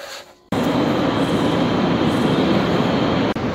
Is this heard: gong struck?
no